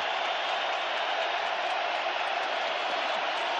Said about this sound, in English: Crowd in full voice here.